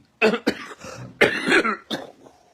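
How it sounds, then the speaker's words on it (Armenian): A man who is ill coughs in several harsh bursts, close and fairly loud, with a short gap in the middle and a weaker cough at the end. "Կներեք, հիվանդությունս չի անցել, պիտի հազա, ինձ պիտի ներեք։"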